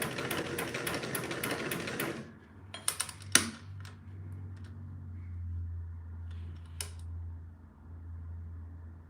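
A home sewing machine stitches fabric in a fast, even run for about two seconds and then stops, after which faint clicks and a low hum remain in a quiet room.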